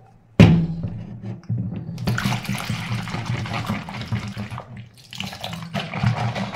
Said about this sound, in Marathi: आतां केंस पयलीं धुवपाचे उदकान